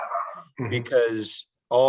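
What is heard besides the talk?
dog barking in the background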